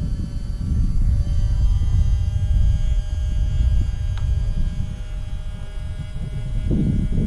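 An RC Stinson Reliant model airplane comes in to land outdoors, its small engine giving a continuous loud buzzing drone over heavy rumbling wind noise, with no talk.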